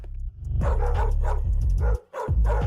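A dog barks loudly and close by in several quick, strong bursts, with short gaps between them and no talking over it.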